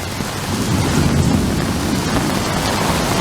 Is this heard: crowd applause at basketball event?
no